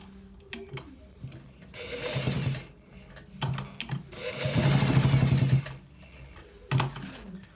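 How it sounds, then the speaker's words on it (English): A sewing machine stitches part of a designer shirt with buttons, running in two long bursts of steady mechanical whirring, separated by short pauses and a few sharp clicks and knocks from handling. "So guys, we are stitching this part too"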